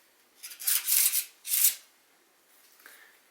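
A deck of playing cards gets a bridge shuffle, with two quick riffling bursts of crisp, close flutter followed by a faint soft tap as the cards settle.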